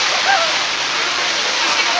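Steady rain falls outdoors at an animal enclosure with llamas, a dense continuous hiss filling the scene at close range, while people talk faintly in the background.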